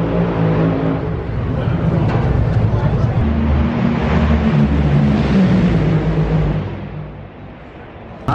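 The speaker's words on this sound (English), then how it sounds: "all the cars are going by here just so loud" Drag racing cars roar past at a racetrack, a dense, continuous loud engine roar with rising and falling passes, then easing off near the end before a sharp burst.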